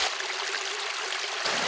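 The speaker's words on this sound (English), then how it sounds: "We're here at Norland Creek and you have some waterfalls here." Small waterfalls on Norland Creek along a forest park trail near Jacksonville, Oregon, give a steady, close rush of splashing water that fills the whole span with no voices.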